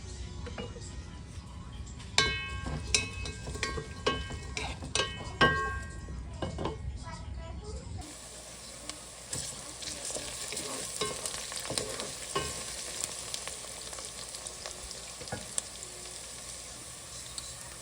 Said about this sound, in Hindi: उसके साथ फिर हम सबसे पहले अनियन को गरम करेंगे थोड़ा सा